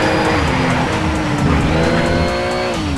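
Porsche race car in Need for Speed Shift at Spa GP, its engine roaring loud and steady with rising and falling revs and tire squeal through corners.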